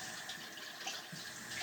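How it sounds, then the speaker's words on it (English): Tap water runs steadily over a remote control's front plate and rubber keypad as they are rinsed, a soft, even splashing hiss close by with faint shifts as the parts move under the stream. "rinse off your plate, your front plate here, and your rubber"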